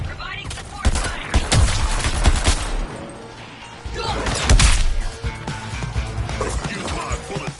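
Bursts of gunfire in the video game Suicide Squad: Kill the Justice League, rapid loud volleys with crashing impacts, punctuated by short pauses.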